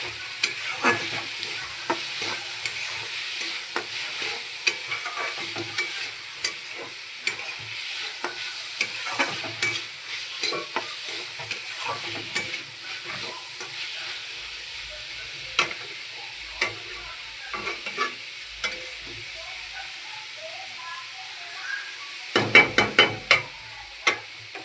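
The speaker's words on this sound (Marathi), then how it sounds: "शिमला मिरची आणि ऑनियन हे व्यवस्थित भाजून घ्यायचं" Capsicum and onion roasting in a pan for Mumbai-style pav bhaji, with a steady close sizzle and frequent scraping stirs of a spatula, joined near the end by a brief cluster of sharp knocks.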